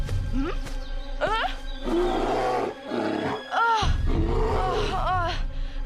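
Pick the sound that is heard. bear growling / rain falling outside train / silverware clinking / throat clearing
bear growling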